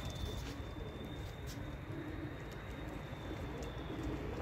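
Pigeons coo softly and continuously in a loft holding Turkish tumbler play pigeons, with a steady low hum of birds in the background and no clear speech.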